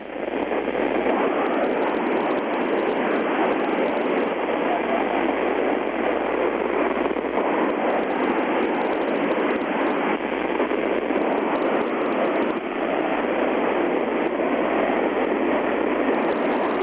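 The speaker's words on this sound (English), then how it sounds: "Hear how everybody you're hearing is all staticky?" A steady, dense hiss of static on amateur radio reception rolls on without a break, broad and loud, with no voices coming through.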